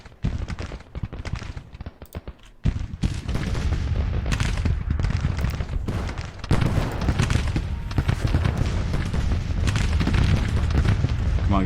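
Artillery fire in the Civil War strategy game Grand Tactician, a repeated heavy boom and crackle of cannon and musket volleys rolling into a loud continuous battle din.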